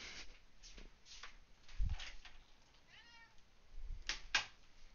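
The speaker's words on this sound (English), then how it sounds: "I hear you meowing." A cat meows a few times at moderate volume, close by, with soft household bumps and rustling around the calls.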